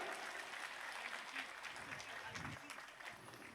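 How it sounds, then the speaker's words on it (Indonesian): An audience at an Islamic religious gathering in Sokaraja, Banyumas claps for an honored guest, a soft, distant wash of applause that stays fairly even and keeps running under faint background voices. "Tepuk tangan untuk Sayyid Zulfikar."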